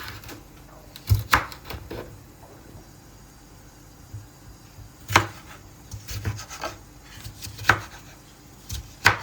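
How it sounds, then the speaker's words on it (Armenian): Sharp knife chops through red and green bell peppers on a cutting board, scattered irregularly with pauses between bursts of a few quick strokes, close by and fairly clear against a quiet background. "Կտրատում ենք նաև պղպեղը։"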